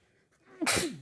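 A single sharp sneeze bursts out after a quiet moment, close and loud, then trails off.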